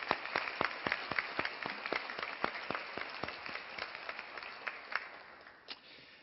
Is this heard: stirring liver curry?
no